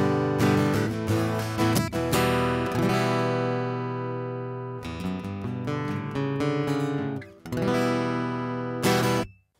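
A black entry-level acoustic guitar with a built-in branded pickup, strummed in loud, ringing chords with brief pauses between phrases and no voices.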